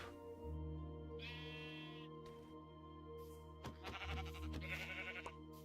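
Sheep bleat several times in a hardcore survival video game set in a jungle biome: a clear bleat early, then a cluster of overlapping bleats later over steady tonal game ambience.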